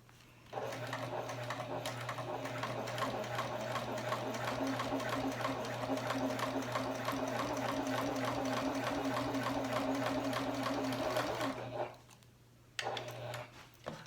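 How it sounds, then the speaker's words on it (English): A Janome HD9 sewing machine stitching through two layers of vinyl, one long steady run of rapid needle clatter lasting about eleven seconds before stopping, with no talking. "So this is sewing through now 2 layers of vinyl"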